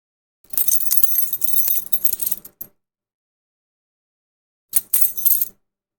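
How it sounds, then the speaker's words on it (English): A bunch of keys jangles loudly right at the microphone, a bright metallic rattle lasting about two seconds, then silence, then a second shorter burst of clinking. "It looks like the keys are picking up really loud in the mic."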